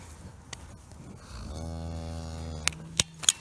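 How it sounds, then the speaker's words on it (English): A newborn calf bellows in a long, loud, drawn-out cry with strong harmonics, followed by a few sharp knocks and clatters close by. "So this calf's gonna beller, and I'm gonna have cows all over top of me."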